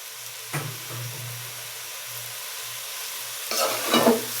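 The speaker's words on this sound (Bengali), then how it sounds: "এখন এটা হচ্ছে ভাজা ভাজা হওয়া অবধি পর্যন্ত খুব নাড়তে হবে" Green chilies are stirred and fried in a pan, a steady soft sizzle with scraping strokes at the start and a louder burst of spatula stirring near the end, nearby with no one talking.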